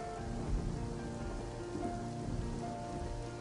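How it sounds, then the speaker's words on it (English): Steady rain falls in a soft, even patter that holds at a faint, constant level throughout, with no voices or other sounds on top. "I love listening to the sound of rain, even though it doesn't really help much when recording"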